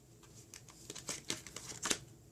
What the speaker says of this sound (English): now I'm just going to pull 9 cards